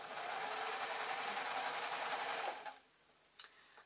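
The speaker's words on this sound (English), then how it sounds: "Then I'm going to move the whole garment round and then just sew through." A sewing machine runs fast and steady through the seam of a lightweight newborn baby hat, then stops abruptly, followed by a faint click.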